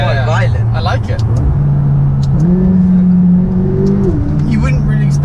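A 570-horsepower McLaren sports car engine revs while driving, its pitch climbing and dropping through gear shifts under a steady cabin hum, with people talking over it.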